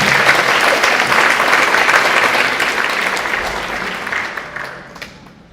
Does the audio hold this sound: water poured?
no